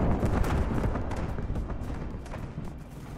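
Cluster bomb explosions in From the Depths merge into a continuous heavy, rumbling barrage, loud and dense throughout with many overlapping thuds and a slowly easing roar.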